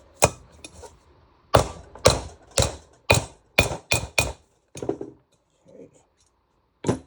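A valve seat pressed into a cylinder head: a series of sharp, loud metallic knocks in uneven bursts, close by, with short pauses and a final strike after a gap.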